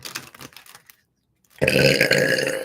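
After a few soft clicks and a silent pause, a loud, drawn-out burp erupts close by and rumbles on for about a second.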